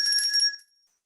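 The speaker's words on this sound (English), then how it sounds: "I'm hearing bells." Short bright bell ding used as a sound effect, ringing clearly alone and fading out within about half a second.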